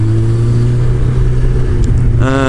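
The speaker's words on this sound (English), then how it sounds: "Whoa, wheel spin." A car engine rumbles loudly and steadily up close, with a rising rev near the end as the wheels spin.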